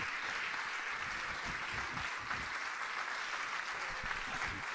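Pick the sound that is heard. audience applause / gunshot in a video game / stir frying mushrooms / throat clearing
audience applause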